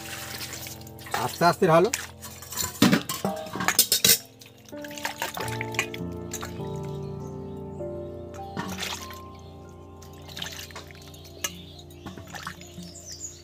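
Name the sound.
raw mangoes being washed in clean water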